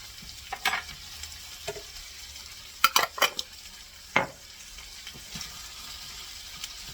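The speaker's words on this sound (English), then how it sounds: "you want to fry your flour in shortening" Flour frying in a little coconut oil shortening in a pan, a faint steady sizzle broken by a few sharp scrapes and clinks of a utensil stirring against the pan, with no talking.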